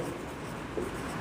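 Marker or chalk writing on a classroom board, a faint continuous scratching with a couple of brief louder strokes near the end, heard alone without speech.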